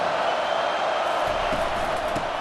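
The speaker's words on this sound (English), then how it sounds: "Defense has him pinned back, and listen to this crowd roar." Stadium crowd roars in the College Football 25 video game, a dense, loud, sustained wash of cheering that stays constant throughout.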